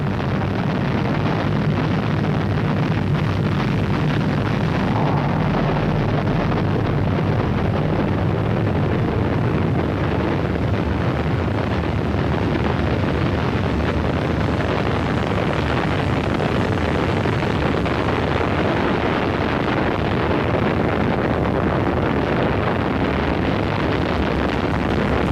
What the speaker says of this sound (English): It was not by chance that Apollo 7 lifted off only 2 3/4 minutes after the appointed moment.